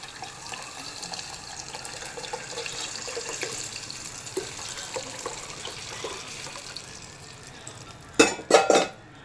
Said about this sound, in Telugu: ఇప్పుడు ఇందులోకి గిలక కొట్టుకొని పెట్టుకున్న మేగడ మజ్జిగ వేస్తున్నాను